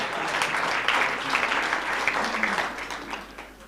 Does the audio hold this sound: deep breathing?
no